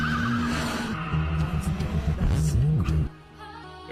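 Toyota AE86 and a rival race car skid through a mountain street race, a loud sustained engine drone with wavering tire squeal that cuts off abruptly near the end.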